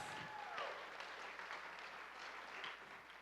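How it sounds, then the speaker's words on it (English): An audience at a design talk applauds, a soft, continuous patter of many hands heard faintly at a distance and holding steady for a few seconds. "How about a big applause for Lois?"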